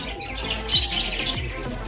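A caged bird gives a couple of short, harsh squawks at Sarat Chandra Chattopadhyay's house at Deulti, over a faint background hum and chatter.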